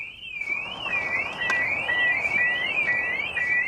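An aftermarket alarm on a 1989 car wails in a rapid rising-and-falling electronic siren, repeating steadily and loudly with no voices over it.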